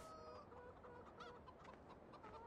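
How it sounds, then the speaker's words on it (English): Chickens cluck and chatter in a farmyard pen in the video game Farming Simulator 17, a steady run of overlapping clucks and short calls at a low, even level with no talk. "We have our chickens."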